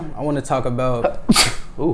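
A single sharp sneeze bursts out near the end of a podcast conversation, loud and close, after a man's speech is cut off, with talking resuming right after.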